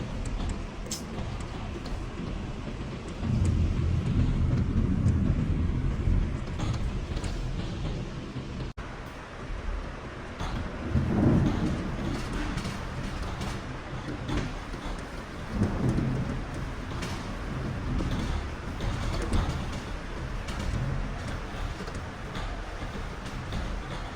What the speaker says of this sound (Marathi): काय ग हां पाऊस आहे परत पाऊस आलाय